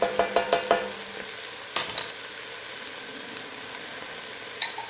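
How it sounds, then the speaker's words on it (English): Minced jarred garlic sizzling in a pot for one-pot chicken tortilla soup, opening with a quick series of spoon taps and stirring scrapes, then a soft, steady frying hiss with an occasional clink. "A couple of cloves of minced garlic from a jar."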